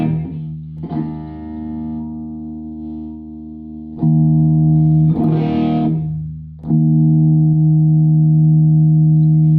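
Electric guitar through a handwired JTM45 amp with an ODR-1 overdrive on a clean setting, a few struck chords ringing out and sustaining with a thick, slightly driven tone, played alone.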